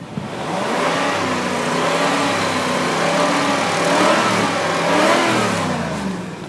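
A 1994 Cadillac Eldorado STS engine revs loudly and steadily up close, its pitch rising and falling as the throttle swells, with no talking over it.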